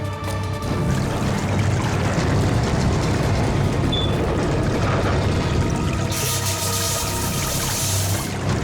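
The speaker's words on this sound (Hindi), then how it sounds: "पानी तेजी से नीचे आ रहा है। पानी अंदर आ रहा है?" Heavy water rushing and pouring into a sinking submarine, a dense continuous roar that holds steady throughout and brightens with a harder surging hiss toward the end.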